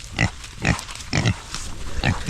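Pigs grunt in short bursts at a steady rhythm, about five loud snorting grunts close by, with no talking.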